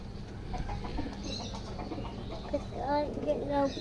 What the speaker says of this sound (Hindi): और ये रहा कबूतर